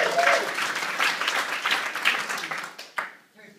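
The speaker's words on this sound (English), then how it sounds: "45 days. Give her a hand, please." Steady applause from a seated audience at a training evening, loud and thick at first, then tapering off into a last few claps and near silence with a voice starting up.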